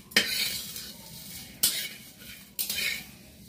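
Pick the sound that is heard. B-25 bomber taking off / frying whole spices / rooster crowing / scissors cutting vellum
frying whole spices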